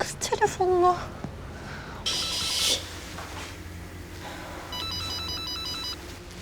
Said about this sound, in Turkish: Açsana kız telefonunu.